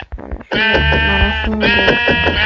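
Sheep in a zombie video game bleat loudly and repeatedly in wavering, drawn-out cries that overlap one another, after a brief spoken phrase at the start.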